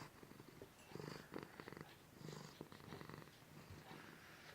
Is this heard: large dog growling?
no